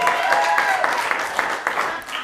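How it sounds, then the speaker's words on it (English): An audience applauds steadily for a couple of seconds, a dense wash of many hands with a few sharper claps standing out, loud and continuous. "Keep some of the clapping going for my good friend."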